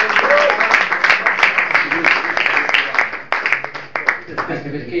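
Audience applause at a live concert with guitar, a dense steady wash of many hands clapping close and loud for the full stretch, with scattered voices mixed in.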